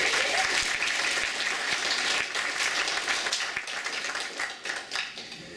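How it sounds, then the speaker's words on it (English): Audience applause fills the hall at the 2012 City of Heroes Freedom player summit, a dense, steady wash of many hands clapping that thins slightly toward the end. "let's give Eric Nelson a round of applause"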